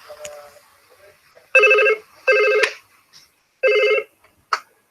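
A telephone rings in a recorded English listening exercise: three distinct electronic ring bursts with short pauses between them, clear and close, followed by a brief fainter blip.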